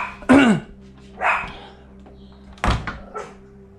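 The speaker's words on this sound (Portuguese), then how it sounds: "Tem cachorro latindo ali dentro" A dog barks a few times from inside a house nearby, short sharp yelps spaced apart over a quiet background hum.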